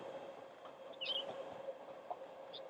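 A train passes by Tampines Boulevard Park East, heard as a faint, distant steady rumble with occasional light squeals and clicks from the wheels, set against quiet outdoor ambience.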